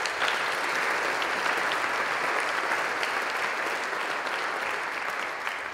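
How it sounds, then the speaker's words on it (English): A church congregation applauds during a Sunday morning service, a dense, steady clapping that holds evenly for several seconds before easing slightly at the end. "Let's give Vi a round of applause."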